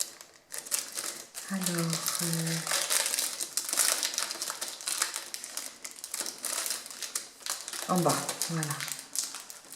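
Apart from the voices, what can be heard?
opening a prize parcel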